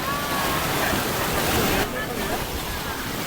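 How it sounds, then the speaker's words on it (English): Ocean waves rolling past on a Hawaiian shore, a loud, steady wash of surf close by that fills the whole clip with a broad, unbroken roar. "And seeing the waves that come past. Just listen to it."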